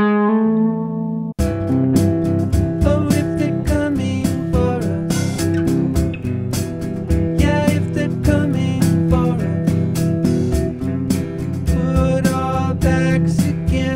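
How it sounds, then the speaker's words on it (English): A Fender Jaguar electric guitar run through the Guitar Rig Country Citrus preset opens with a ringing chord, then strums and picks a busy, bright, continuous rhythmic part, loud and close with no voices. "It's time to record some electric guitar."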